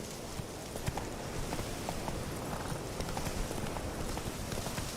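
A horse's hooves clop at a steady walking pace in The Witcher 3 video game, a quiet, continuous stream of soft footfalls across the whole stretch.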